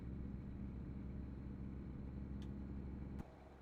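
Truck engine in a trucking simulation game, a steady low droning rumble with a pulsing idle rhythm, loud and close, dropping in level near the end after a brief click.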